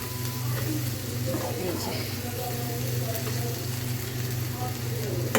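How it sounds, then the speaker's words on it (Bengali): Blended onion, mustard and green chilli paste fries with turmeric and salt, producing a continuous close sizzle while someone speaks briefly over it. "এরপর হচ্ছে হলুদ আর হচ্ছে লবণ দিয়ে খুব ভালো মতন কষিয়ে নিব"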